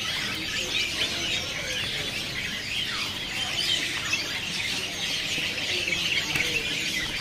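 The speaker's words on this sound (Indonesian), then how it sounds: "Selanjutnya di kios ini ada burung camperling ya." Camperling songbirds at a bird market kiosk give quick, high chirps and tweets that come and go over a steady background of other birds' calls and market noise, with no talk.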